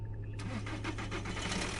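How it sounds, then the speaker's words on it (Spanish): A car engine cranks and catches, then settles into a rough, steady idle close by, the rapid pulsing of the start blending into a continuous hum with faint background noise and no talking. "Me subí al carro, encendí el motor"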